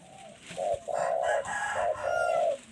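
A rooster crows nearby with a loud, drawn-out call broken into several rising and falling segments, heard alone over a quiet background.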